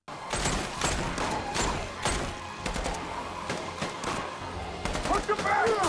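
Gunfire from a tense Walking Dead episode scene, with repeated sharp shots and bursts in a dense, loud mix throughout, under shouting voices and dramatic sound.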